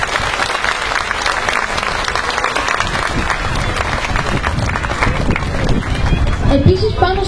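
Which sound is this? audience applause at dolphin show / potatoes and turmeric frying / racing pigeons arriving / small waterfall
audience applause at dolphin show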